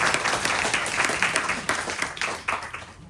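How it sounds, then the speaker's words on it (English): A crowd applauds steadily, a dense patter of many hands clapping together for a few seconds. "So a round of applause for CCBA for 20 years."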